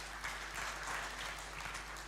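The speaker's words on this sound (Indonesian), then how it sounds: "tepuk tangan buat Tuhan" A church congregation claps together during a Sunday sermon, a steady, fairly even round of hand-clapping that fills the room for a couple of seconds with no voices over it.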